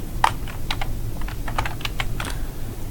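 A computer keyboard is tapped in a quick run of distinct, close keystrokes over a low background hum while an answer is typed for a math homework question.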